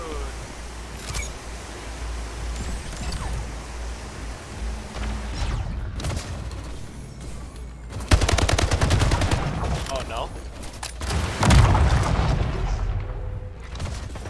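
Gunfire and rocket launcher blasts in the multiplayer shooter game Slipgate, loud rapid bursts of shots and booms with dense firing in the second half.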